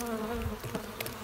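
Honey bees hum in a steady, close, continuous drone at an opened beehive during a workshop, with no talk over the buzzing.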